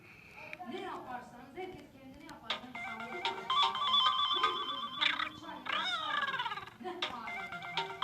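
A mobile phone rings with a looping electronic ringtone melody, fairly loud and close, while someone talks over and between the tones indoors.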